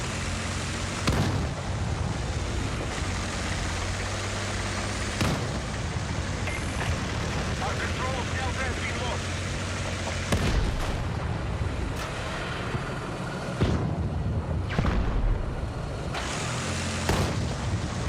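Mortar blasts and rapid gunfire in the Battlefield 6 video game, a dense, continuous battle din with repeated heavy booms cutting through and no talk over it.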